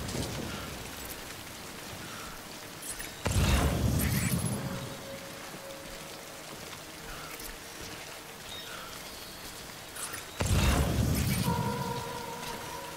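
Steady rain falls in the Death Stranding video game as a constant hissing patter, swelling twice into louder rushing bursts, with no voices.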